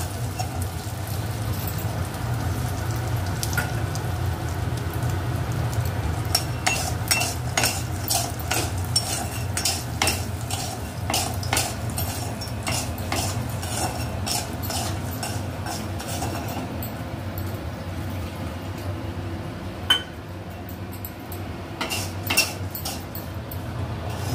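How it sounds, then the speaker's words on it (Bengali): Fried lentil dumplings (bori) being added to a pan for a hing curry, with a run of metal spoon clinks and scraping against the pan over a low background hum and faint sizzle. "এবার এর মধ্যে দিয়ে দেওয়া হচ্ছে ভেজে রাখা বড়িগুলো"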